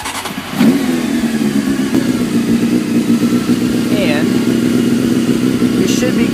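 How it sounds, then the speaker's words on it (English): A Honda motorcycle engine cranks and fires up, then settles into a loud, steady idle with a slight rev, close by, while a person speaks over it. "we're gonna turn on the bike"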